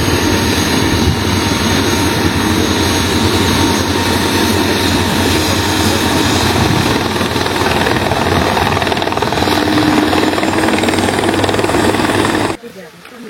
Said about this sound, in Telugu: ఒక హెలికాప్టర్ ఇక్కడ ఉంది, ఇంకోటి అదిగోండి వచ్చేస్తుంది